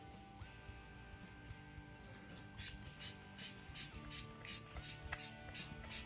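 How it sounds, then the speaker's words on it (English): Hand vacuum pump drawing diesel through a VW TDI fuel filter, a run of quick, close ratcheting clicks and squeaky mechanical strokes repeating in a steady pumping rhythm over a faint background hum. "what it's doing right now is sucking the fuel through the filter"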